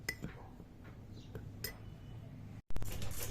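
Homemade soap powder ingredients stirred together in a bowl: soft scraping and light clinks of a spoon against the dish, quiet and close, with a brief dropout followed by louder rustling.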